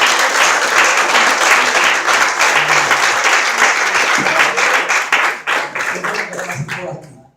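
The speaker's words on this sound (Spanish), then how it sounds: "Dale un aplauso bien fuerte." A church congregation breaks into loud, dense applause during a sermon, a sustained roar of many hands close by that gradually thins into scattered claps before stopping.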